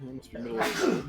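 A sudden sneeze bursts out during a tabletop game session, following a man's speech with a sharp, breathy blast at close range.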